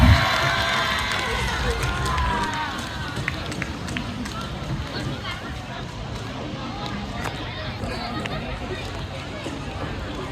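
A stage event audience breaks into loud applause and cheering, a dense wash of clapping and shouts that is strongest at the start and then settles into steady crowd noise and babble.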